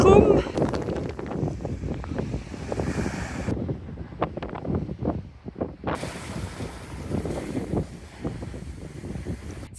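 Gusty wind buffets the microphone outdoors by the shore, with a person talking over it and a faint wash of surf behind.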